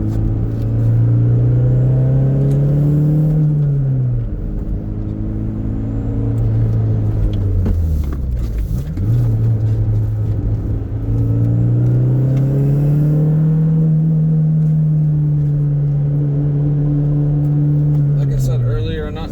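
A Toyota MR2 engine drones steadily from inside the car on the winding Tail of the Dragon road, its pitch rising and falling with revs through the bends, loud and continuous with a brief dip midway.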